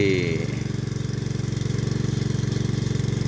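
An engine-driven water pump draws water from a freshly dug well, a steady, loud, rapidly pulsing mechanical chug that holds an even rhythm throughout, with a brief higher whine at the start.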